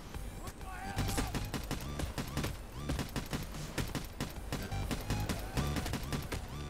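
Continuous gunfire in the heist shooter Payday 2, with rapid overlapping shots from several guns against a loud chaotic background and a voice partly buried in the din.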